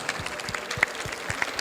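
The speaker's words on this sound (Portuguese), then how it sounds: "Queria pedir uma salva de palmas, pessoal, para os meninos." An audience at a beekeeping lecture claps in thin, scattered applause, irregular hand claps at moderate distance with no voices over them.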